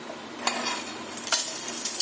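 Fennel and whole coriander seeds roast in a pan with a steady dry sizzle, broken by a few sharp scrapes and clinks of a spoon stirring against the metal, close and fairly loud.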